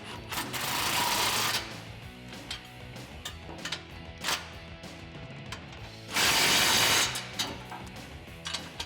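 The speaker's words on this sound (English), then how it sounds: "the first thing we're gonna start with is the 14mm hardware for our flange. I'm just gonna snug that up" Ratchet snugging up 14mm flange hardware on an MBRP exhaust system for a 2015-2020 F150 2.7L EcoBoost, quick clicking ratchet strokes in close bursts with a few pauses between, no talking.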